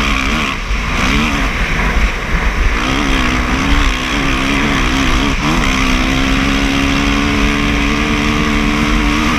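KTM motorcycles ride across desert salt flats, engines droning loudly and steadily with rising and falling revs as the bikes accelerate and shift, with no talk over the sound.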